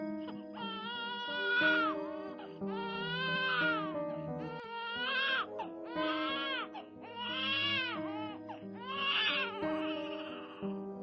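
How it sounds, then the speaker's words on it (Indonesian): An infant wails in repeated drawn-out cries with brief gasping pauses, loud and close, used as a sound effect in a dramatized story. "Bu, apa Ibu mendengar suara tangisan bayi?"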